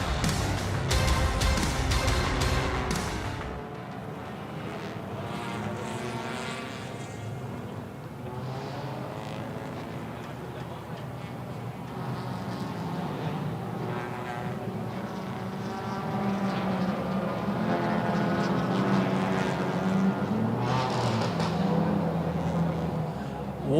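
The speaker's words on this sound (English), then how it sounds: "You can hear those engines screaming their way." Race car engines scream around Sepang International Circuit during a Malaysia Championship Series race, a loud roar that rises and falls in pitch as cars pass, steady and continuous after a brief opening burst.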